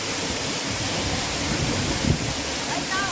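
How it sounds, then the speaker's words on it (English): Waterfall in Soufriere, St Lucia heard from behind the falling water, a steady loud broadband roar filling the whole clip, with a brief splash-like swell near the end and faint voices in the background. "Right now I'm behind the waterfall."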